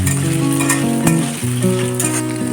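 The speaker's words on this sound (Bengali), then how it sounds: "এখানে ফোড়ন দিয়েছি জিরে তেজপাতা আর একটু গোটা গরম মশলা" Cumin seeds, bay leaf and whole garam masala tempering in hot oil, a loud, continuous sizzle with light stirring, heard alone over a steady tonal hum.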